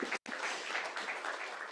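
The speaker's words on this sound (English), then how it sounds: "A loud applause for improvisation there." A conference audience at an astronomy general assembly gives a brief, steady round of applause after a presentation, moderately distant, with a short gap near the start.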